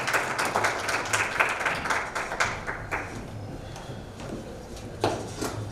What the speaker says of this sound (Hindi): जोरदार तालियों से हमारे अतिथियों का स्वागत करें।